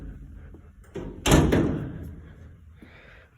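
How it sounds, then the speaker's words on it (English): The heavy metal door of an Axe Equipment SW2432HT spray washer thunks open, a sharp bang followed by a lingering rattle that fades away, with nobody talking. "One-handed door, very easy to lift."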